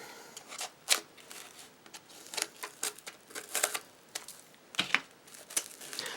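A knife cuts through a dried homemade bath bomb with scratchy, crumbly cutting noises, a quick series of small crackles and scrapes up close.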